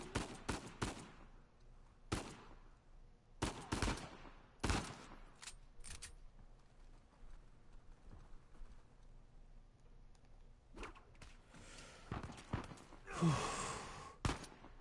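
Sniper gunfire in a pirate video game: sharp, isolated cracks spaced irregularly across the stretch, some clustered, with quieter gaps between and a burst of noisier activity near the end.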